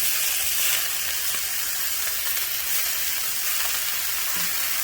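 Corned beef hash cooking in oil in a hot pan gives off a steady, close sizzle, a constant crackling hiss that holds even for the whole stretch with no voices over it.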